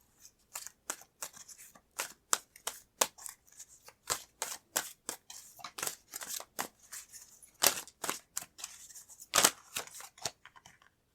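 Tarot cards being shuffled and drawn from a deck: a rapid series of crisp, sharp card snaps and flicks, fairly close and moderately loud, with no talking.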